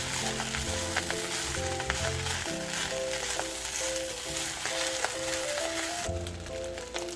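Shrimp and egg fried rice, seasoned with oyster sauce and MSG, sizzles loudly and steadily in a hot pan as it is stirred, with scraping and faint clinks over constant frying noise.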